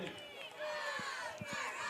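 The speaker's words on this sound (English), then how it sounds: "And we get fired up from the MHS cheer team down on the track." The MHS cheer team shouts from the track at the Macomb Bombers high school football game, a distant crowd-like chorus of voices rising and holding steady over stadium ambience.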